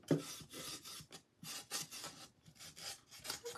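Steady back-and-forth rasping strokes as a sanding block rubs across wood, close up, rhythmic with brief pauses between passes.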